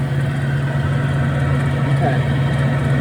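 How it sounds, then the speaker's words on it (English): The blower of the St. John's church organ runs as a steady, unbroken low hum and drone, loud and close, with no change in level throughout. "down there is where the blower is located."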